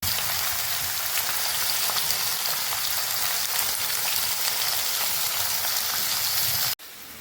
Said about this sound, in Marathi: आता मी हे सगळं फ्राय करायला टाकणार